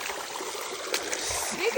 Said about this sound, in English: And I'm walking in a creek